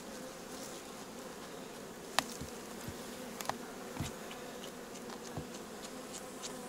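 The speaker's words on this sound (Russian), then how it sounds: "вижу, рыженькие пчелки" Buckfast honeybees buzz in a steady, close hum at an open hive frame during beekeeping work, with a few faint taps and clicks scattered through.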